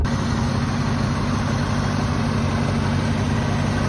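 A 1985 Cadillac Seville with its 4100 V8 idles alone, a steady low, even rumble at constant loudness with no voices over it.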